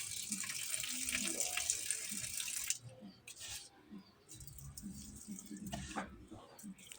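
A banana heart is rinsed in a basin of water, with running, splashing water loud at first, then cutting to quieter sloshing and handling sounds as the pieces are stirred and washed.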